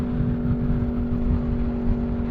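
An Aprilia Tuono 1100 Factory 2021 motorcycle engine holds around 6,000 RPM in a steady, loud, even drone with a strong tonal hum and rushing wind, heard up close while riding.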